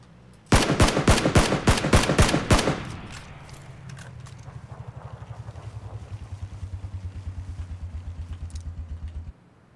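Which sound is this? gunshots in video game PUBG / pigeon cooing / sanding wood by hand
gunshots in video game PUBG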